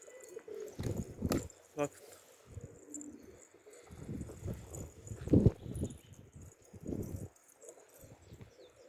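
Pigeons in a loft give low, soft coos in scattered bursts, close by and fairly quiet, with faint rustling in between.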